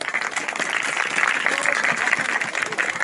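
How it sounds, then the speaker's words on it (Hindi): A congregation at an outdoor tent meeting in Pakistan claps loudly for about three seconds, a dense, steady patter of many hands with murmured voices underneath. "जोर से ताली बजा दें।"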